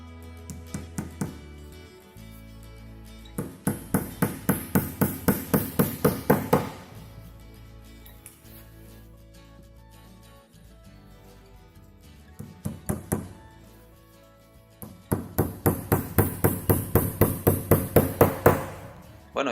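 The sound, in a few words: hammer tapping legs into wooden kit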